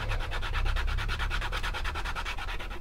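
Steady back-and-forth sanding strokes rub along the edge of a leather knife sheath, a rapid even rhythm of close, continuous scratchy friction with no talk.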